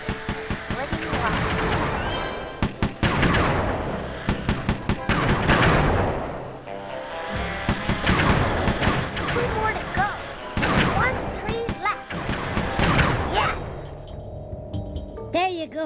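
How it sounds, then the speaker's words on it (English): Rapid turret gunfire in the video game Sly 3, loud repeated bursts of shots and booms spread across the stretch with brief pauses, with game music and effects underneath. "Good thing I installed a turret on this little lady."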